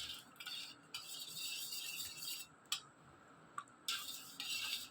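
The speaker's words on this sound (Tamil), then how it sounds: "இப்போ இதை நல்லா அந்த சுகரும் கலையிற அளவுக்கு நல்லா கலக்கிக்கலாம்." A spoon stirs sugar into hibiscus tea in a cup, making quiet swishing bursts and a few sharp metallic clinks against the sides, close but soft, with no voices.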